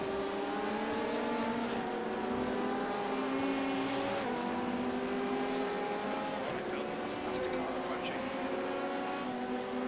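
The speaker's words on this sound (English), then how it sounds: "got LMP coming through here" An LMP prototype race car in the iRacing sim roars past at the Circuit de Barcelona-Catalunya, its engine note holding loud and close before shifting pitch as it goes by, with voices talking over it.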